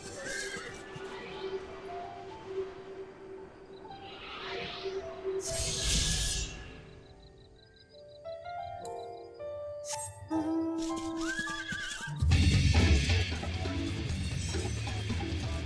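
A horse neighs and whinnies in Final Fantasy XIV, with clip-clopping hooves and game music around it; the whinny rises clearly, then softer hoof steps and a louder musical passage follow.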